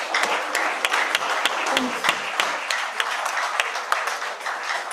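Applause at an international conference on ECOWAS, a smaller group clapping with distinct individual claps standing out over a moderate, continuous patter.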